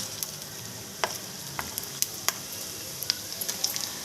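Chana dal, urad dal and cumin fry in oil with a soft, even sizzle, dotted with sharp little pops and crackles scattered throughout.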